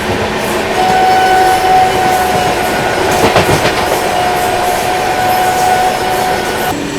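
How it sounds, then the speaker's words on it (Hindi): Shiv Ganga Superfast Express running alongside the Sabarmati Express, a steady loud rumble of wheels and rail noise with faint clickety-clack and a brief louder burst midway, no talking. "और यहाँ साबरमती एक्सप्रेस आगे निकल रही है।"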